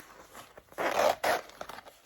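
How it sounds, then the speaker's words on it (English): Zipper on a handmade Felicity tote bag being pulled along its track in two quick rasping strokes, close and fairly quiet, with softer fabric handling around them. "Zip up that zipper."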